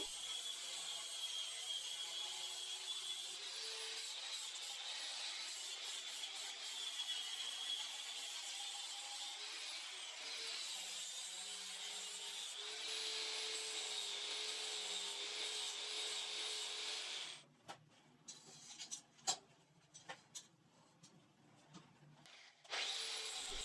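Steel attachment plates for a metal waist belt being sanded and smoothed, edges rounded, with a steady faint abrasive rubbing and whirring tool drone that breaks into short scraping and clattering bursts near the end.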